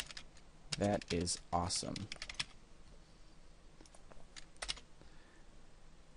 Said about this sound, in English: So I'm going to type in t-shirt.